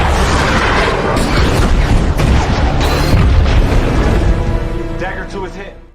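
A loud, dense film explosion from Top Gun, a sustained roaring boom with crackling debris and rumble filling several seconds and slowly fading, under dramatic mixed sound.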